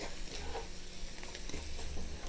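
Roux browning in a skillet while chicken pot pie is made, giving a steady, close sizzle with faint stirring scrapes and no talk.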